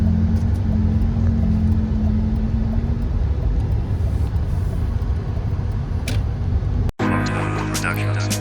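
Cars cruise around an evening gathering spot in Qatar, a steady broad roar of passing traffic and engines throughout, with a brief cut near the end followed by a different, busier stretch.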